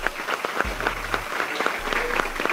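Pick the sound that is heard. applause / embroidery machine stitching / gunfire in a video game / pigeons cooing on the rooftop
applause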